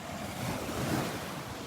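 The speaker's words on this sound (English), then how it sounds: "These waves are kicking up" Surf breaks along a Gulf beach at Delnor-Wiggins on a windy day with choppy waves and red tide, a continuous rushing roar with wind buffeting the microphone, no voices.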